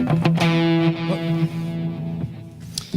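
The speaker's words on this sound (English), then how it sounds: "Pop on the distortion" A distorted electric guitar chord through a Line 6 Helix rings out with a thick, buzzy sustain and fades over a few seconds, with a small pick noise at the close.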